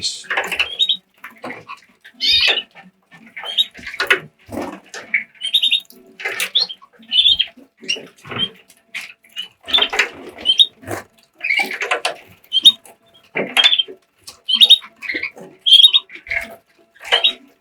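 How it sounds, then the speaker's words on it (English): Several Border canaries, with a Fife canary among them, chirp in bursts of bright, close tweets that run steadily and overlap one another, along with light fluttering and splashing from bathing. "I'm sure you will spend the same amount of time watching your birds when they're bathing."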